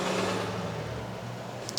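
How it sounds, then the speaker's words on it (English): A loud truck rumbles past outside, a steady low engine drone holding throughout before easing slightly near the end, with no talk over it. "It's a loud truck."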